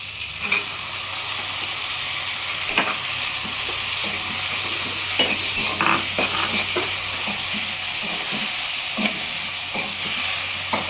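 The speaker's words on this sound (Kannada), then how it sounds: "ಇದು ಸಹಿತ ಒಂದು 2 ರಿಂದ 3 ನಿಮಿಷ ಫ್ರೈ ಆಗಬೇಕು." Chopped tomatoes and onions fry in an oiled pan for tomato rice, a continuous close sizzle with repeated scraping and stirring clicks from a spoon against the pan.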